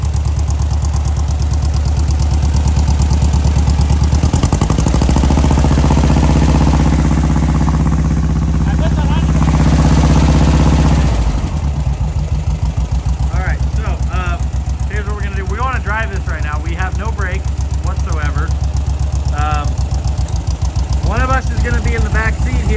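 Engine of a junkyard dune buggy under load as the gas pedal is pressed, a loud low rumble swelling for several seconds then dropping back to a steady idle, with people talking over it near the end.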